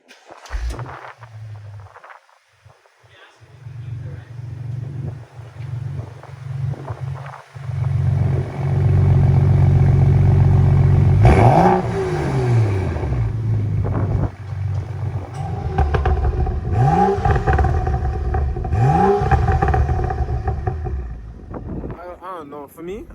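A BMW F30 fitted with a downpipe and a resonator-delete exhaust starts up and settles into a deep, steady idle, then gives several sharp revs that rise and fall. Some voices can be heard around the car.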